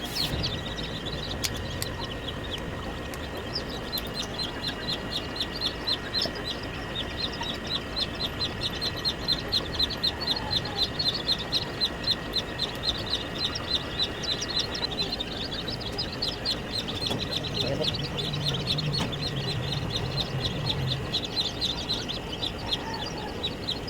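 Chickens and chicks at a Filipino poultry farm, steady rapid clucking and peeping from many birds throughout, with high chick cheeps over lower hen clucks.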